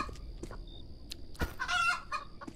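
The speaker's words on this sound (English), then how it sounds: "There's a chicken right there." A chicken in the horror video game Devour clucks in a short burst of squawks near the middle, amid faint game ambience and thumps, with no talking.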